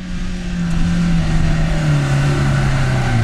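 A 4x4 vehicle's engine revs hard as it accelerates across sand, a loud, continuous drone whose pitch climbs and holds close by.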